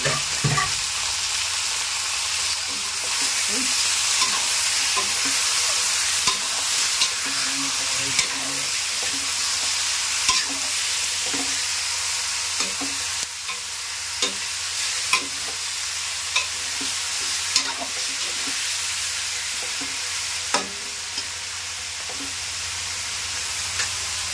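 Chicken adobo fries in a pan under a constant hissing sizzle, left to char and crisp a little. Repeated sharp scrapes and clicks of a spatula stirring break through at irregular intervals.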